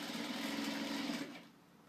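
A sewing machine stitches along the edge of crib sheet fabric in a short, close, steady whirring run that slows and fades near the end.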